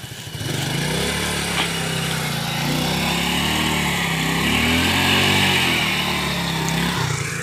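A small motorcycle engine idles and revs close by on a rain-flooded road, a steady buzzing drone with a slight rise and fall in pitch, with no talking over it.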